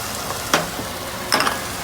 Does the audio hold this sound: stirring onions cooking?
yes